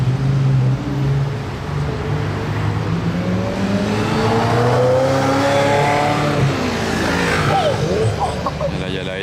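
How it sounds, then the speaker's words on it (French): A Ferrari 355 sports car engine revs, its loud tonal roar rising and falling across the whole stretch, with people talking excitedly over it. "Ça fait un bruit une 355."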